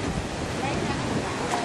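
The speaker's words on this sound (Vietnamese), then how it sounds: "chúng ta thấy sóng gió rất là lớn," Strong waves surge and wind roars over the open sea off Phu Quoc island in storm season. The sound is a loud, continuous rush with no clear breaks.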